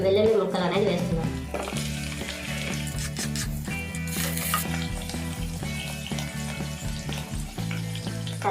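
Ginger paste and garlic pieces fry in hot oil in an electric rice cooker, a loud, steady crackling sizzle that flares at the start, over a low rhythmic hum and occasional stirring scrapes.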